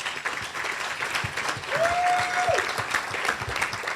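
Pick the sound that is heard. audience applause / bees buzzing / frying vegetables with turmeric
audience applause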